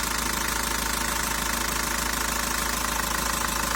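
A Renault 1.9 dCi diesel engine idling steadily after cleaning, with an even, rhythmic diesel clatter and constant hum held close and loud throughout, no voices.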